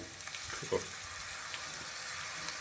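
Tomato paste hits finely chopped onions frying in a pan at home, giving a steady close hiss and sizzle with light stirring scrapes and a small splat as it goes in.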